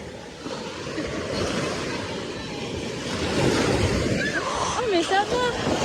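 Sea waves wash steadily at a beach where people are swimming, a broad rushing surf with wind across the microphone, growing slightly louder midway, while voices talk and call out over it.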